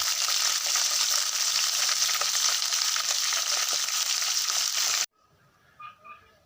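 Loud, steady sizzling of insects frying in hot oil in a pan for several seconds, then it stops abruptly, leaving faint clicks.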